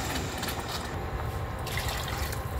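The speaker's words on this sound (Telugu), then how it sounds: "మనం రైస్కి పోసినట్టే వాటర్ పోసుకోవాలండి." Water pours steadily into a pot of soaking rice with garlic, salt and turmeric, a continuous splashing gush, fairly close and unbroken throughout.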